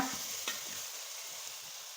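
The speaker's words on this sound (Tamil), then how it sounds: "இஞ்சி பூண்டை ஒரு பத்து நிமிஷத்துக்கு எண்ணெயில் வதக்கினா தான் அதோட டேஸ்ட் அந்தளவுக்கு நல்லா சூப்பராக இருக்கும்" Ginger, garlic and green chilli paste sautéing in hot oil for chicken mandi biryani, giving a steady close sizzle with a brief stirring scrape, and no talking.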